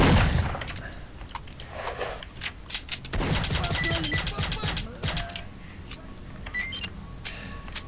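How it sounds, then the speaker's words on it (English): Gunfire in the shooter game S.T.A.L.K.E.R. Shadow of Chernobyl, set among bandits at Cordon: rapid bursts of sharp shots crackle over a busy in-game background, densest in the middle stretch, with a player voice talking at times. "Oh no, where are they shooting from?"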